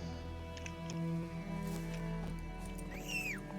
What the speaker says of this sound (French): Et on peut appeler le cheval.